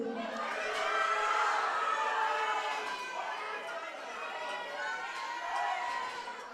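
A crowd at a high school powerlifting nationals meet shouts and cheers for a girl squatting on the platform, a steady wash of voices and yells lasting several seconds.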